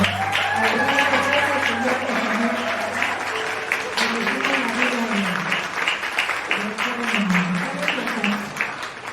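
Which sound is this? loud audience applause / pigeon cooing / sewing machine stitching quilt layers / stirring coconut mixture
loud audience applause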